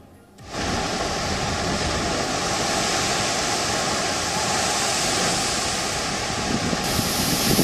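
Surging waves of the storm-tossed east-central Arabian Sea during Cyclone Tauktae form a loud, unbroken roaring wash that starts abruptly and continues steadily, with no talking.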